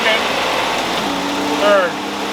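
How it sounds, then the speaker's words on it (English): Car engine with a 727 automatic transmission on a dyno, revving through first and second gear, a steady engine drone with a short rising pitch sweep near the end. "I'll rev it up for you. First gear. Second."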